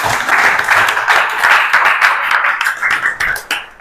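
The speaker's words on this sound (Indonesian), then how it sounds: "kasih tepuk tangan buat Kansa" A classroom of vocational high school students claps for a classmate, a dense, close burst of many hands that stays steady for a few seconds before thinning out.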